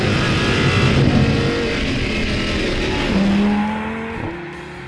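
Audi R8 V10 supercar accelerating hard, a loud rising engine howl climbing through revs with a gear change, then easing off as it moves away.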